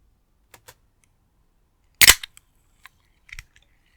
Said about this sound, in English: That is the sound of my writing fuel, a Bud Light Lime.